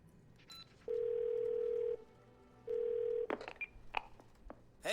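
In the video game Twelve Minutes, a phone call plays two long, steady ring tones separated by a short gap, followed by scattered clicks and faint beeps, all quiet and without voices.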